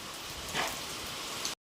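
Heavy rain drums on a tin sheet roof in a steady broadband hiss that stays loud and constant, with a brief swell midway and no voices, before cutting off abruptly.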